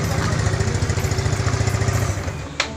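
A motorcycle engine running steadily after being restarted during a repair for hard starting and sudden stalling, with a continuous close, loud rumble and a brief sharp click near the end.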